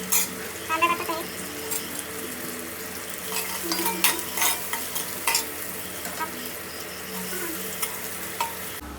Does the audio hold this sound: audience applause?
no